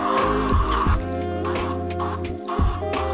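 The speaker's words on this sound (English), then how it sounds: "Spray the frame down, and then give everything a good wiping." Cheap furniture polish is sprayed in several close, hissing aerosol bursts onto a Diamondback bicycle frame, with brief gaps between the sprays.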